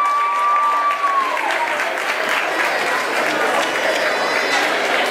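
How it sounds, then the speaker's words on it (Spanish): Crowd applause and cheering at an outdoor LGBTTTIQ+ pride march in Cuautla, Morelos, a continuous dense wash of clapping with a whistle at the start, steady and loud throughout. "Los aplausos, que se escuche gente de Cuautla"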